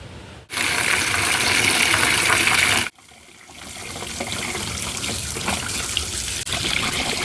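Water is poured from a bucket, a steady close splashing gush that stops abruptly, then resumes as a softer, continuous pour.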